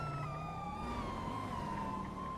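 A police car siren in the GTA V video game wails steadily and loudly for the whole stretch, its pitch gliding slowly, over a dense engine and traffic rumble, with no talk.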